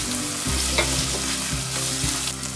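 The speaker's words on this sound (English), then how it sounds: "add finely chopped cabbage and again saute for around 1 minute" Chopped cabbage sautéing with garlic paste in a pan for Schezwan upma, a steady close sizzle with stirring scrapes throughout and faint low background hum, no talking.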